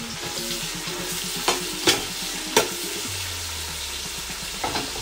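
Onions and green chillies are sautéed in a pan for fish dum biryani, a steady sizzle broken by a few sharp spoon clacks against the vessel, with a low hum underneath and no voices.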